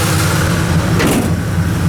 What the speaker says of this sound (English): So great running engine.